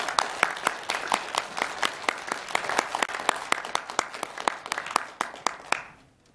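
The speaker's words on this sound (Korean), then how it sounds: "박수로 맞아주십시오." An audience at a press conference on North Korean human rights claps to welcome the next speaker. Sparse, fairly close individual claps form a steady irregular rhythm that stops abruptly at the end.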